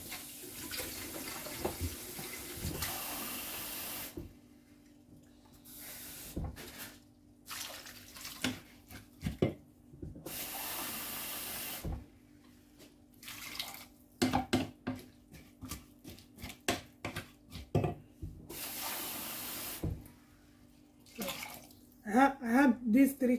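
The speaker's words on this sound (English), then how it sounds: "Then I'll add water." Water poured into a pot of meat pie filling as it cooks, splashing and running in irregular bursts with pauses, while a person talks over it in a kitchen.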